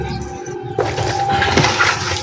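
Water splashes and pours over live catfish being cleaned of their slime with salt, a brief, loud rushing gush running throughout.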